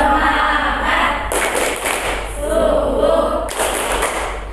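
Schoolchildren in an Indonesian class beat out a rhythmic spirit-clap, bursts of loud sharp claps in a patterned group rhythm, with a teacher's voice calling between them.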